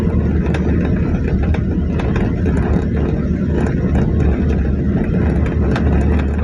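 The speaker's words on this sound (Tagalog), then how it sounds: "maliit na motor" A small motor pumps water out of a house flooded by a typhoon and monsoon rains, giving a loud, steady droning hum that never lets up, with no one talking.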